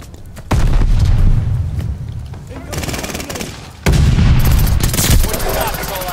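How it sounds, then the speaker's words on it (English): Grenade explosion in a shooter video game, two heavy booming blasts about three seconds apart, loud and close, amid rattling gunfire with a rumbling tail after each. "Tossing grenade."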